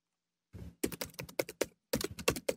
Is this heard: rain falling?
no